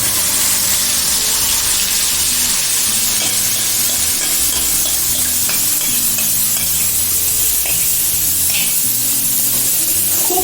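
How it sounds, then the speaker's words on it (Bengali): Loud, steady sizzling of spice paste being sautéed in a hot pan, with continuous frying crackle and occasional scraping stirs, no talking. "এটাকে এবার দিয়ে ভালো করে কষাতে হবে"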